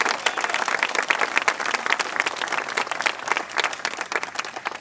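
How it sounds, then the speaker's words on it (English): Loud, continuous crowd applause at an outdoor statue dedication in a Binghamton park, many hands clapping at once with a few sharper claps standing out. "Please, round of applause."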